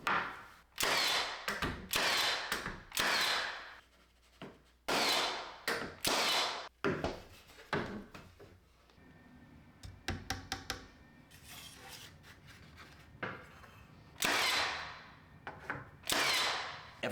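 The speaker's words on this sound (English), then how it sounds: "it's a Milwaukee 16 gauge trim gun" A Milwaukee 16 gauge trim nail gun fires trim nails while door trim goes up, giving a series of sharp, loud bursts in irregular clusters with short pauses between them, close by and with no talking.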